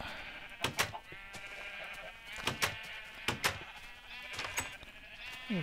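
A flock of light blue sheep in a block-building video game keeps bleating, with wavering calls repeating every second or so amid sharp clicks, close and fairly clear.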